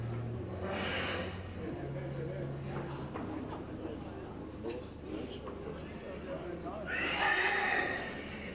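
Horses at an open house at the LaMovida stable whinny in loud, shrill bursts, one near the start and a longer one near the end, over steady hoof and stable noise while people talk throughout.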